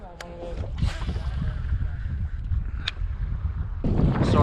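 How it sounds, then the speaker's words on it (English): Wind blowing across a microphone while bass fishing from a boat in windy conditions: low, gusty rumbling that runs throughout, with a few brief clicks and rattles, louder toward the end. "Sorry about the wind, it's gonna be kind of windy"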